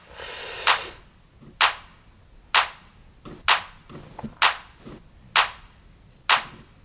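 Layered 909-style claps for a house track, one layer panned left and one right, play together as a steady run of eight bright, snappy hits with short reverb-like tails and occasional softer ghost hits between them.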